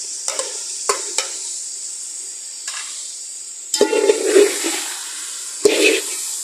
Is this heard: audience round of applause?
no